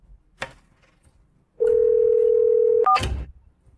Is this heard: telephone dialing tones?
yes